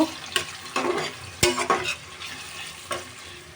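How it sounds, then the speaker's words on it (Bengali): Sliced onion rings and garlic fry lightly in a pan for a beef curry, giving a soft sizzle under repeated scraping stirs and a few sharp utensil knocks against the pan, close up. "এবার আমি একটু হালকা করে ভেজে নেব।"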